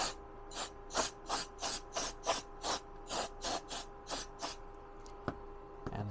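Short bursts of compressed air blow gunk out of a Canon AE-1 film camera body, about a dozen quick hissing puffs in a steady rhythm, close and fairly quiet, then a few faint clicks.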